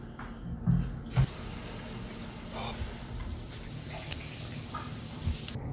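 Shower water runs steadily with a constant hiss in a van-life setting in British Columbia, starting after a brief quiet moment and continuing evenly to the end.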